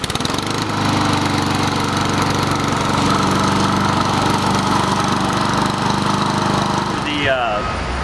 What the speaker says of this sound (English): to start it up, you pull the blade control lever back and then just give the cord a pull. It'll start right up for you.